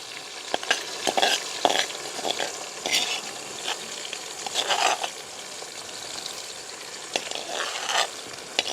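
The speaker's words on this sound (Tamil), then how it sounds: "இப்படியே மெட்ட பாவக்காயம் போட்டு பொரிப்போம்." Bitter gourd sizzles steadily frying in hot oil while a utensil stirs and scrapes the pan in irregular clinks and rustles.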